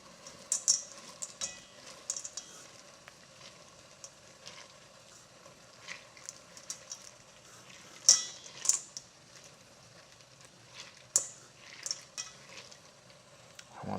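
Food frying in a pan on a home kitchen stove while being stirred, with soft sizzling under scattered utensil clinks and scrapes against the pan, moderately near and fairly quiet.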